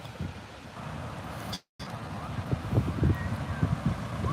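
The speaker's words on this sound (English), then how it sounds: "It's windy out here, so I'm hoping there's not a lot of wind static on the audio." Steady wind at the beach rumbles and buffets against a microphone, a low roar that briefly cuts out before gusting back with choppy low-end thumps.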